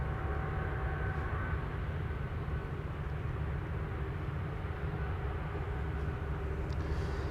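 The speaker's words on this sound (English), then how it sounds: "SAS A320neo on its way to Stockholm." An SAS Airbus A320neo airliner departs Amsterdam Schiphol, its engines a steady, broad low roar held at constant loudness throughout, with no voices.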